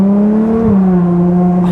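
A Ferrari Monza SP2 idles calmly in the middle of a city, its engine a loud, close, smooth hum that dips slightly in pitch partway through and settles into a steady tone.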